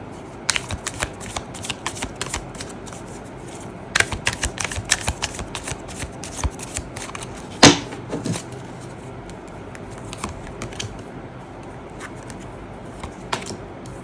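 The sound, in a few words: tarot cards being shuffled and drawn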